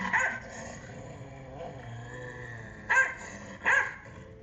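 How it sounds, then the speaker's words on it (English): A dog barks nearby: one bark at the start, then two sharper barks close together near the end, over a low steady background hum, with no talking. "Now let's look at another example with the dog barking."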